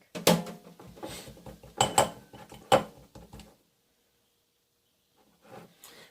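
A pot is set down in a kitchen sink, a few clanking metal knocks over about three seconds, close and fairly quiet, followed by near silence and a faint later rustle.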